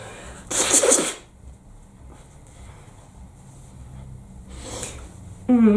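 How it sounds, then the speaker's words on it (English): Two short bursts of forceful nasal blowing, the first louder, separated by a few seconds of quiet room tone, close by. "I think I need to blow my nose again"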